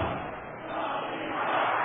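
Virtual arena crowd in a wrestling video game roaring and cheering steadily throughout, a dense continuous wash of noise that swells slightly toward the end, with no voices standing out.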